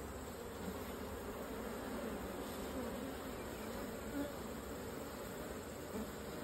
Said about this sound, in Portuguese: Eu achando que as abelhas estavam enxameando pelo barulho.